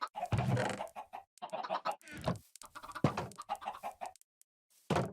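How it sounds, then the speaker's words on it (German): A Minecraft chicken clucks in a string of short, close, fairly loud clucking bursts with brief pauses between them. "Ein einziges Huhn ist rausgekommen"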